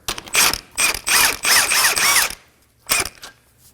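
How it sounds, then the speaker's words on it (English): Ratchet with a 19mm socket turning a control arm bolt on a 2016-2020 Kia Sorento, several bursts of rapid clicking, close and loud, ending with a short final burst after a pause. "we're going to use a 19mm socket to remove the bolt"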